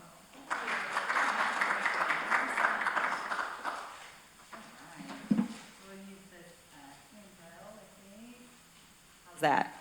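Audience applause welcoming a speaker to the stage at an education talk on AI, a dense burst of clapping from a crowd for about three seconds that fades out, followed by a speaker talking.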